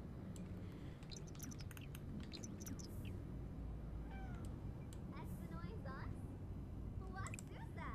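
A cat meows a few times in The Sims 4, short rising calls standing out over a steady bed of game music and ambient noise, with a person talking at moments.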